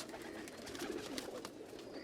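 A Hira Lal pigeon cooing in a low, rolling murmur, brief and steady against continuous background hiss, fairly close.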